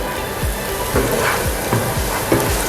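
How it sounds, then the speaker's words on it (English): Finely chopped garlic frying in hot oil in a pan makes a loud, steady sizzle close up, with the soft repeated scrape of stirring and no talk. "I'll fry the garlic until it's golden brown."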